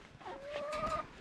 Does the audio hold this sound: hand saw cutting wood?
no